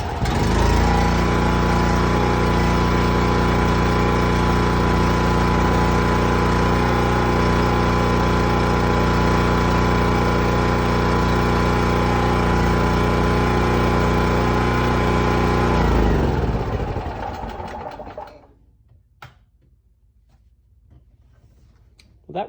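A Champion generator converted to run on natural gas, started with the hand choke, runs at a steady, loud, even drone for about seventeen seconds, then cuts out and winds down into near silence.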